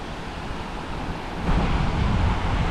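Waves washing onto a quiet beach in Portugal, a steady broad rushing wash with wind noise that swells louder midway as a wave breaks, no voices present.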